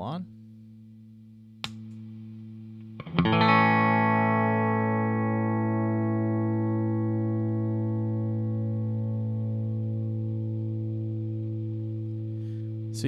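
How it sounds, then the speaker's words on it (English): A guitar chord rings through a NashPedals compression and sustain pedal switched on, with a tail of the previous chord and a light pick tap first, then a fresh strum that holds steady and sustains with little decay. "strum through the same chord, just so you can hear the sustain and the compression that this pedal has"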